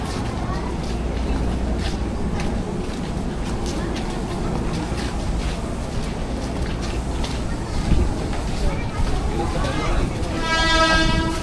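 Commuter train pulling into a busy Jakarta station platform, a steady rumbling rolling roar with a short horn-like tonal call near the end, over crowd noise and people talking nearby.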